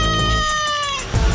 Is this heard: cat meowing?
yes